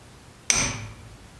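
A single sharp metallic hammer strike lands on a drift while knocking out a kingpin pinch bolt on a big truck axle, ringing briefly after a quiet moment.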